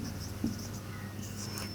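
Chalk or marker writing a Hindi word on a classroom board, a faint scratchy stroke sound over low room hum, brief and quiet with no talking.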